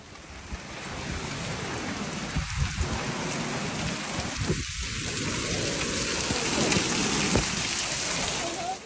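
Severe hailstorm with heavy rain in Tyrol, Austria, a dense steady roar of rain and hail pounding surfaces throughout, with a couple of brief low rumbles in the middle and no voices.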